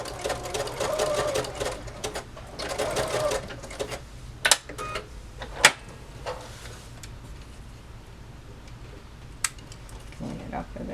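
Sewing machine zigzag stitching elastic onto a fabric face mask, a steady mechanical whir in two bursts early on, then quieter handling clicks and a few sharp taps with the motor mostly stopped.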